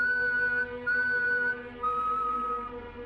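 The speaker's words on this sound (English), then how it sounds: "3 long whistles, then silence" Three long, steady whistled tones, each held for about half a second to a second with short gaps between, faint and clear against quiet.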